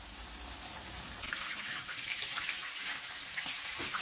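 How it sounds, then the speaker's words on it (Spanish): A stuffed chicken breast frying in a skillet makes a continuous, moderately quiet crackling hiss with scattered pops, steady from start to finish. "Y ahora vamos a freír nuestra pechuga"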